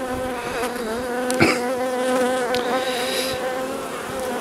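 Honeybees buzz steadily and close by while an apiary hive is opened for a summer check before wintering, with a dense, continuous drone of many wings and a few louder individual passes near the ear.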